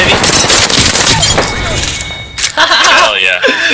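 Gunfire in the video game Apex Legends: loud rapid bursts and a fusillade of shots with heavy thumps, while players talk over the action.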